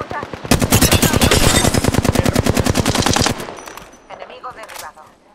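Rapid automatic gunfire in Apex Legends hammers out a loud, evenly spaced stream of shots for about three seconds, then breaks off into quieter scattered sounds and a voice.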